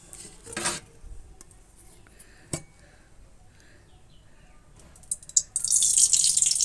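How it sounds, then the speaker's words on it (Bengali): White cooking oil is poured into ghee in a pan, with a couple of brief clinks in a quiet stretch and then a bright, hissing sizzle that rises and holds at the end. "এবার ওই ঘিয়ের মধ্যে কিছুটা আমি সাদা তেল দিয়ে দেবো।"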